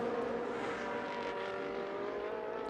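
Race cars at Mugello, side by side under heavy braking, give a sustained engine roar with shifting tones, steady and moderately loud, with no speech.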